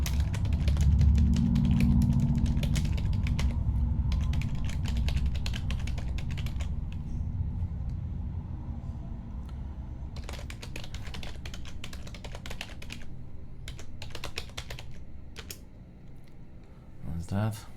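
Keyboard typing on a computer running Ubuntu, rapid clicky bursts with short pauses, sitting under a steady low hum and occasional talk.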